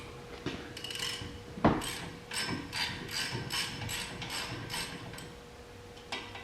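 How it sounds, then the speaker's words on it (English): Half-inch drive ratchet with a 17mm socket backing out brake bolts on a 2016 Kia Rondo, a run of quick ratcheting clicks in short bursts after a sharp metallic knock, close and alone. "I'm using my 1/2 inch drive and a 17 millimeter. And we'll just remove that off of here."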